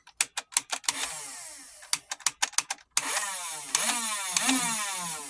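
A Dart Zone MK3 foam dart blaster with a 35-round drum gives a run of sharp mechanical clicks, then its motor whirs up loudly and cuts off, followed by a second click series and another sustained motor rev.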